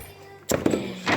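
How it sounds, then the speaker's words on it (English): Fireworks bursting at a New Year celebration: a sudden sharp crack followed by a couple more quick pops and a later burst, close and loud against a quiet background. "Fireworks. Freaky fireworks."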